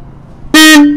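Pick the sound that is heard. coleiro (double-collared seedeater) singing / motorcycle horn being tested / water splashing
motorcycle horn being tested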